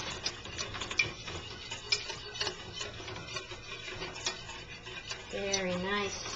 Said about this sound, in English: Just whisk that all together.